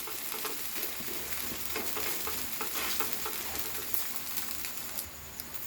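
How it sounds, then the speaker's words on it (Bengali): Flipped flatbread made from flour and egg fries in a pan while being lightly pressed down, giving a steady close sizzle with faint scraping and a few soft bird coos in the background. "আর আমি আরেক পিঠ উল্টে দিলাম, দিয়ে আমি একটু হালকা হালকা করে চেপে দিচ্ছি এটা"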